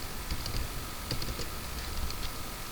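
Computer keyboard typing in scattered soft keystroke clusters, fairly quiet and close, over a steady background hum with no voices.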